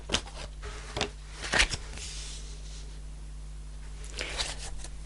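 Tarot cards being shuffled and handled during a reading: a few quick, close papery riffles and flicks, followed by a soft crinkle of cards and a low background hum, with no speech.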